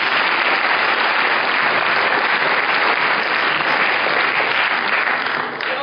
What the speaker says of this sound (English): A big round of applause for Sweta.